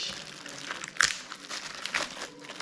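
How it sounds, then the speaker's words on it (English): Plastic packaging crinkles and crunches as a replacement Lenovo T480 laptop keyboard is unwrapped, with a sharper tearing burst near the middle and softer rustling around it, close and fairly quiet. "let me just get this keyboard and unwrap it."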